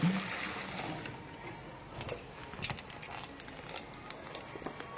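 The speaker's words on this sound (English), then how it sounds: "I'm just going to give my bowl a quick rinse so that I can shred." Running water rinses out the bowl of a Magimix Cook Expert food processor: a steady, fairly quiet tap hiss with light splashing that fades slightly after the first moment.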